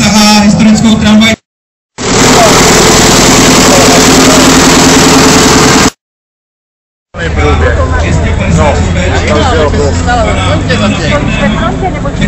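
A historic tractor with a Svoboda engine and a German rear axle and gearbox, used to pull a historic tram, runs loudly at a tractor show. Its engine drone sits under crowd babble and nearby talk, broken by abrupt cuts.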